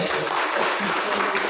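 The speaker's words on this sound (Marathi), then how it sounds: "जोरदार टाळ्या वाजवायचे" An audience at a mind-reading magic show claps together in a brief, dense burst of applause, steady and fairly close throughout.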